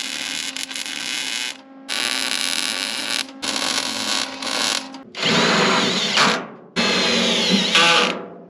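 A power drill driving self-tapping screws into the metal tubing of a car trailer in several loud whirring bursts of a second or two each, separated by short pauses, close by.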